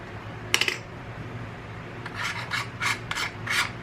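Small GoPro ND filter lens parts are unscrewed by hand, giving short, close, gritty scraping twists: one brief burst early, then several quick rasps in a row near the end over a quiet background.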